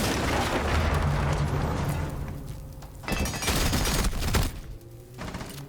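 Automatic gunfire from a video game weapon sprayed in long bursts, loud rapid rattling volleys broken by a short pause and then another burst.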